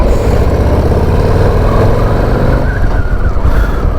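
Harley-Davidson Low Rider ST motorcycle with a stock exhaust, its engine rumbling loud and steady throughout while being ridden, with no talking.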